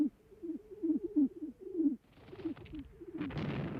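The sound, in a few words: carrier pigeons cooing in mobile pigeon lofts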